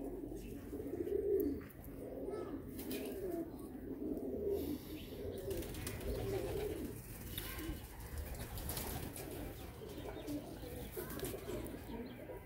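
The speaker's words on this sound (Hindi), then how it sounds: "ये भी शेखा वाला कबूतर है" Sheikha-type domestic pigeon cooing in low, rolling repeated phrases at close range, steady throughout with faint background chatter and a few light chirps.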